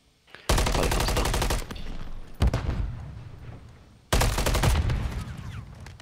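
Loud automatic gunfire bursts in a Call of Duty Hardpoint match: one long burst, a shorter one, then another sustained volley, with little talk.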